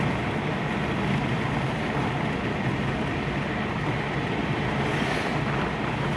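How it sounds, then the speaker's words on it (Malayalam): Wind rushes through a lowered car window on a moving car, a loud, steady, broadband roar with no break throughout. "കാറിൻ്റെ ഗ്ലാസ്ക്ക് താത്തിട്ട് നല്ല കാറ്റ്."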